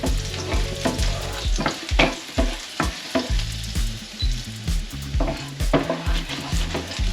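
Clams sautéing and browning in a pan sizzle steadily and loudly up close, with repeated sharp clacks and scrapes of stirring against the pan throughout.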